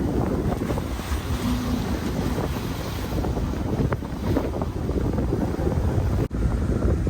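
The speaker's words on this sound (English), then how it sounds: "still motor sailing." A sailboat motor-sailing across the open Indian Ocean, its engine drone blending with steady wind buffeting and rushing waves along the hull, loud and continuous throughout with no talking.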